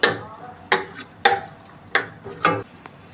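Chickpeas fry in a spiced tempering while a spoon stirs them: five sharp scraping and knocking strokes land at uneven intervals over a faint sizzle, close up, without speech.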